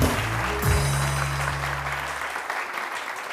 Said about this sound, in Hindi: उन लोगों के लिए भी बहुत सारी तालियां।